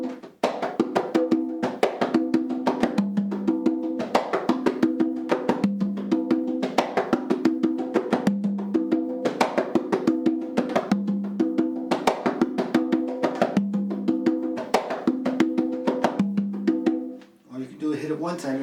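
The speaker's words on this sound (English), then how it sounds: "you can do the low drum, which is the tumbao, and you get a sound like this" A low conga drum plays a tumbao pattern, with crisp, evenly spaced open and muted strikes repeating steadily up close, followed by a brief voice at the end.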